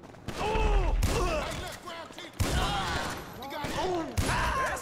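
Gunfire in GTA 5 comes as repeated loud bursts of shots separated by short gaps, mixed with game voices talking over the shooting.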